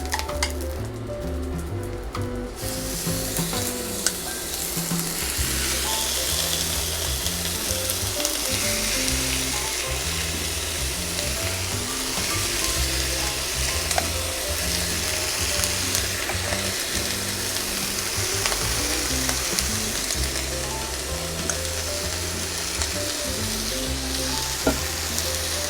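Chicken wings frying in a pan of hot oil, with a loud, continuous close sizzle over a long stretch and occasional light stirring and clinks of utensils, with no voices.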